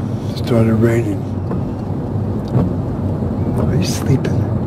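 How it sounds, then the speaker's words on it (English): Rain and thunder in the video game Silent Hill 3: a steady wash of rain under low rumbling thunder, with a brief voice-like tone near the start. "Started raining."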